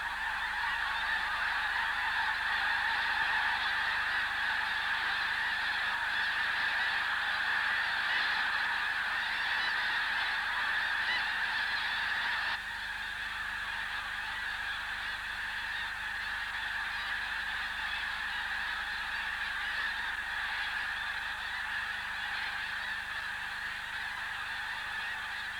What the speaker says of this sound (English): These young geese have found a patch where the taller grass has partly insulated the ground against the frost.